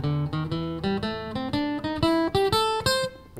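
An electric guitar picks the notes of a minor pentatonic blues scale one after another in an even ascending run, each note clear and ringing briefly, close and solo with no talk.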